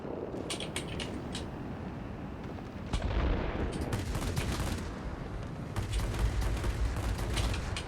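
Aircraft guns firing in World of Warplanes, with rapid bursts of gunfire over a constant droning engine roar and a couple of louder firing stretches.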